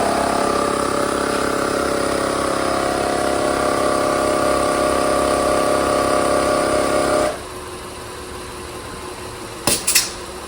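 Automatic tire inflator filling a 2021 Honda Ridgeline tire to 35 PSI, a loud steady buzzing compressor drone that cuts off abruptly, followed by quieter background and a couple of brief clicks.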